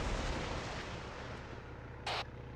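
A rocket launcher shot in the video game Arma 3, a heavy booming blast that decays into a long low rumble, followed near the end by a short bright burst of noise.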